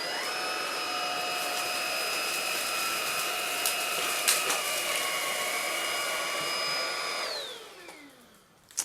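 A Xiaomi Dreame V9 cordless vacuum cleaner runs steadily with a loud whining motor hum while picking up dirt, then spins down near the end with a falling pitch and a final click.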